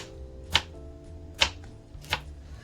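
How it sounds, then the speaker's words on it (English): A knife slices across a cucumber in three separate crisp cuts, spaced about a second apart, close and clear over a quiet kitchen background. "And then I'm going to be cutting it and slices across"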